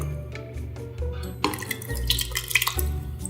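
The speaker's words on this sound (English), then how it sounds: "So we're gonna pour the whole can in here, even the liquid." Canned tomatoes and their juice pour from the tin into a soup pot, a soft gurgling splash that grows louder and more splattery halfway through, with dripping and wet glugs.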